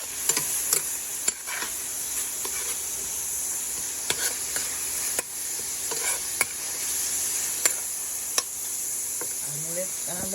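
Salty fish fries in a pan outdoors on a patio, giving a steady bright sizzle throughout with scattered sharp ticks and pops and faint insect chirring in the background.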